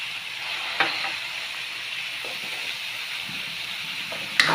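Cabbage and pork stir-frying in a hot pan, a steady close sizzle and hiss with a couple of sharp clinks from stirring, and no talk.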